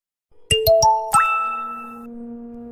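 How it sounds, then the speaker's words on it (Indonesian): A mobile phone rings with a bright, melodic ding-dong tone: a few quick chiming notes followed by a sustained ringing chord that slowly fades, loud and close, with no talking over it. "Ucapanku terpotong oleh bunyi ponsel."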